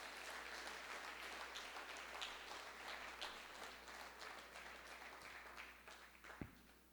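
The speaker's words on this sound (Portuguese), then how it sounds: "Aplauda ao Senhor" A church congregation at a Sunday morning service claps together in a sustained, even wash of applause, heard faint and somewhat distant throughout.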